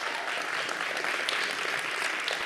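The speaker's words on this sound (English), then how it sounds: "So give them a round of applause" An audience at a racial equity summit gives a round of applause, dense steady clapping filling the room for the whole stretch.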